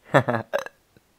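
A man lets out a short voiced hiccup or gulp in a couple of quick bursts, close to the microphone, followed by a faint click.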